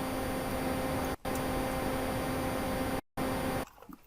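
Synthesized fan noise made in Reason: a steady, even broadband whir with a faint tonal hum, cut by two brief dropouts before thinning out at the end, heard alone.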